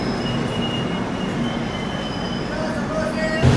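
The Telangana SF Express rolls along after leaving Kazipet Junction, heard from inside as a steady loud rumble with faint wheel squeal and a thump near the end.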